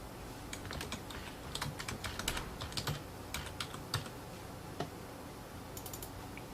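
Someone types a folder name on a computer keyboard, producing quiet, close key clicks in short irregular bursts over soft background hiss, with no speech.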